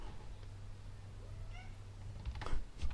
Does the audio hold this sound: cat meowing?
yes